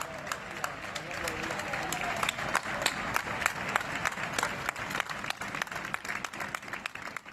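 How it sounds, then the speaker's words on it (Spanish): Neighbours applaud firefighters battling a wildfire near the N-403 road, a continuous outdoor clapping with sharp individual claps standing out and voices of residents mixed in. "cientos de efectivos trabajando sin descanso, a los que los vecinos recibían con este aplauso de ánimo y agradecimiento."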